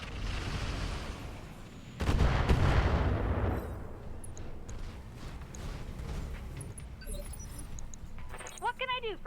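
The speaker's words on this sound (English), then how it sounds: "Oh no, that's a plasma cannon." A plasma cannon fires in BattleTech with the RogueTech mod, a heavy booming blast followed by a long rumbling decay, with scattered electronic chirps and effects afterward.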